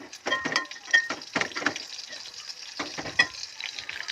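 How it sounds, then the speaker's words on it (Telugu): Dried red chillies, mustard seeds, cumin and curry leaves crackle and sizzle in hot oil, with sharp bursts of popping over a steady frying hiss, close up. "ఆయిల్ వేసుకుని పోపు దినుసులు వేసుకోవాలి ఎండుమిర్చి ఆవాలు జీలకర్ర కరివేపాకు వేసుకుని పోపుని వేయించుకోవాలి"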